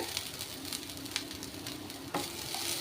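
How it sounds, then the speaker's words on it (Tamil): Grated coconut sautéing in ghee with fruit pieces for a New Year sweet, a steady soft sizzle with occasional crackles and a brief stirring scrape near the end, close and continuous. "தேங்காவையும் இந்த பழத்து கூட நெய் கூட நல்லா வதக்கி விட்டுக்கோங்க"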